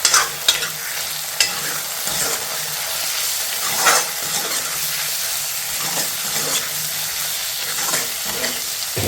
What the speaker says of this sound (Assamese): মাংসখিনি দি অকণমান এতিয়া ফ্ৰাই কৰোঁ।